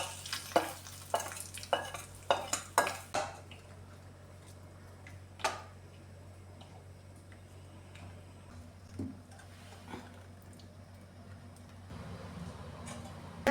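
A hot tempering of dried red chillies and curry leaves is poured into Kerala-style beetroot pachadi, giving a burst of loud crackling sizzles and stirring clicks that fade into a quieter simmering fizz.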